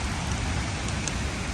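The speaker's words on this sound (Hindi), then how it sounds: "बारिश हो रही है" Steady rain falling in a forest in the Parvati Valley, a dense, even hiss of drops with no pauses.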